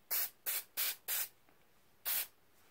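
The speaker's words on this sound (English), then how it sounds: "I'm just going to spritz it with just a little bit of this clear acrylic" Clear acrylic spray misted onto an oyster shell in four quick close hissing bursts, then a pause and one more short spritz, with quiet between.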